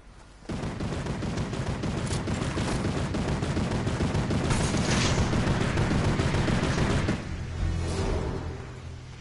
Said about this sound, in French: Devant moi, ça tire sur un sanglier.